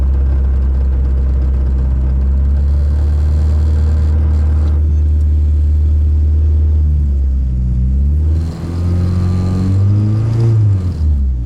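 A K-swapped Nissan Cefiro engine idles loudly and close, with a deep steady rumble that shifts in pitch and resonance toward the end.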